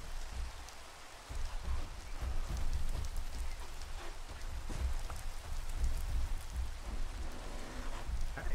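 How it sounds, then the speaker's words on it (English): Steady rain falls in Minecraft on the ATM10 modpack, a constant hissing patter with a faint low rumble throughout, no voices. "Alright, rain. You're always raining for some strange reason."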